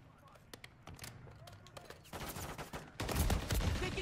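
Hip-fire gunfire in a video game cracks out in scattered single shots before building into loud, dense automatic bursts at the end, with faint voices in the background.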